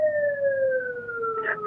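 An emergency vehicle siren wails steadily in one long, slowly falling tone, loud and close, with a brief burst of other noise near the end.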